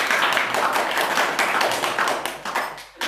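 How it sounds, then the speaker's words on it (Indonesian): Audience applause for earlier speakers at an Islamic speech-practice (muhadhoroh) event, a dense, steady wash of many hands clapping at close range that keeps going and fades a little at the end. "Tepuk tangan dulu untuk rekan-rekan yang tadi"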